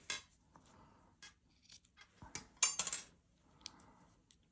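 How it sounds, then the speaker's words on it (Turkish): Scissors snip crochet yarn on a girl's crochet blouse, a few sharp metallic snips and clicks heard up close between quiet pauses. "Şimdi tekrar bu ipi aradan geçirerek gizliyorum ve kesiyorum."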